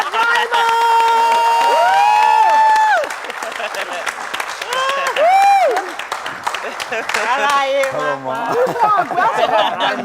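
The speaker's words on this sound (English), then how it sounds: "Ladies and gentlemen, a round of applause for Brimo!" An audience bursts into loud applause and cheering at a live event, with clapping, whoops and crowd chatter building and swelling for about ten seconds at close range.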